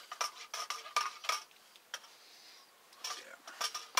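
A spoon clinks and scrapes rapidly against the inside of a cup while stirring chaga tinder fungus tea, bursts of quick metallic ticks separated by a brief quieter pause.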